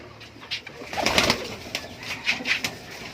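Giribaz and Saharanpuri pigeons coo at close range, a few soft repeated coos with a brief flutter of wings in between.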